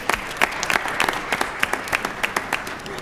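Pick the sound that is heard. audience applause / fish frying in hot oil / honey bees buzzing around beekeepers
audience applause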